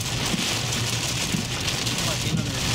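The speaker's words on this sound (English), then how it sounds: "that wind is strong" Strong tornado-storm wind during Southern Oklahoma tornadoes, a steady loud roar with rain hiss, constant and close, with no distinct gusts.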